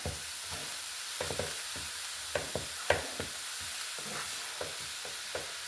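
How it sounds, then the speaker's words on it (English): Broccoli and cauliflower for a casserole stirred in a skillet, a soft steady sizzle broken by scattered scraping and knocking taps of the spoon against the pan, close and moderate, with no talk. "now I'm going to stir them around in there"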